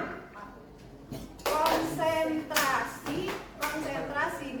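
A standing group of teachers doing the tepuk konsentrasi rhythmic clapping game, with bursts of sharp hand claps in short patterned sets alongside a voice chanting the call, all close and fairly loud.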